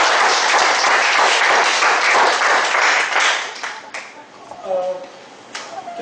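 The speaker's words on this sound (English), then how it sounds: "Give her a good round of applause." A crowd at a speakers forum meeting applauds loudly and steadily, then the clapping thins out into scattered claps.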